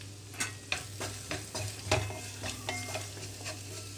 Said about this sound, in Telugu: ఇప్పుడు ఈ ఆయిల్లోనే నేను కట్ చేసి పెట్టుకున్న ఉల్లిపాయలు వేస్తున్నాను.